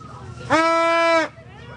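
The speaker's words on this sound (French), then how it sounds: "aller donner à manger aux chèvres" A goat bleats once on a farm, a loud, sustained, steady cry of under a second, rising sharply out of quiet background noise and then falling away.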